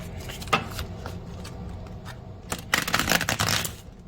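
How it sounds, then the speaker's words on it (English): Stiff tarot-style cards being shuffled by hand, a dry flurry of riffling clicks and rustles that builds into a dense, louder burst near the end, with no talk over it. "These cards are a little stiff. I promise, I know how to shuffle."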